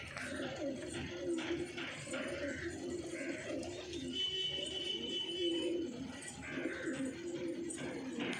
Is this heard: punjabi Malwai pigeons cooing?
yes